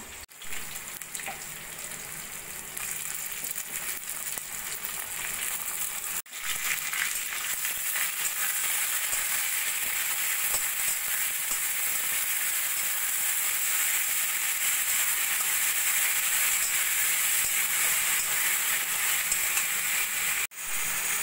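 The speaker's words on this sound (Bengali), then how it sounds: "চিকেন 2-3 মিনিট মতো ভেজে নিয়ে দিয়ে দেবো" Lemon-marinated chicken frying in a pan with ginger and crushed garlic for khichuri, a loud continuous sizzle and hiss held steady throughout with a couple of brief dropouts.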